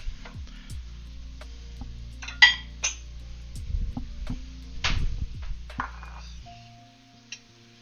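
Dishes and a small bowl clink and knock in a home kitchen during cooking, with a few scattered sharp clatters and soft thuds against a low steady hum, fairly near and moderate in level.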